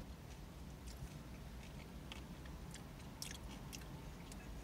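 Someone bites into and chews a vegan coconut cashew plant-based meal replacement bar, dense in texture, giving soft close crunches and sticky mastication clicks, faint and irregular, with no speech over it.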